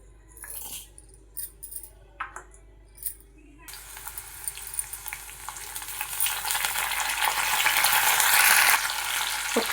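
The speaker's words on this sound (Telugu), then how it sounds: "ఇప్పుడు తాలింపు గింజలు వేసుకుని మనం ఫ్రై చేసుకుందాం." Tempering seeds drop into heated oil in a pan while cooking a raw banana dish. A few light clicks come first, then a bright sizzle that grows louder and steadier as the seeds fry.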